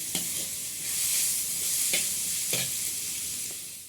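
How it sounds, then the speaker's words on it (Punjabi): Onions frying in a pan, a steady hiss of sizzling oil with a few distinct scrapes of stirring spaced through, close and with no talk. "ਹੁਣ ਇਹਨੂੰ ਮਸਾਲੇ ਦੀ ਤਰ੍ਹਾਂ ਆਪਾਂ ਪਿਆਜ਼ਾਂ ਨੂੰ ਭੁੰਨਾਂਗੇ ਪਹਿਲਾਂ"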